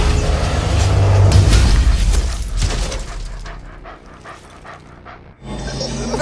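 An injured dog pants in Marvel's Avengers, rapid loud breathing and whimpering close up over a rumbling background, fading to quieter rhythmic pants before a low thud.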